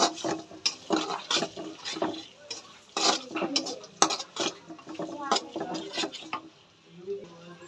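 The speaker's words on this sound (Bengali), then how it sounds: "ক্যাপসিকামগুলোকে একটু ভেজে নেব" Capsicum being stir-fried in a pan, with frequent rhythmic spatula clatter against the metal and a light sizzle underneath, close and fairly loud, then a quieter stretch at the end.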